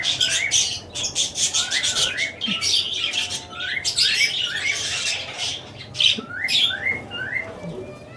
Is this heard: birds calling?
yes